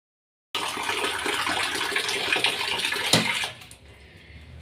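Tap water runs for about three seconds into a metal water pot, a close, steady splashing gush with a small clink partway through. The flow then cuts off, leaving a quiet trickle, with no voices.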